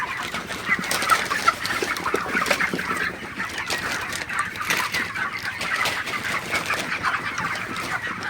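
Broiler chickens on a poultry farm in sweltering, humid heat, a dense flock clucking and calling steadily all through, close and fairly loud, no voices over them.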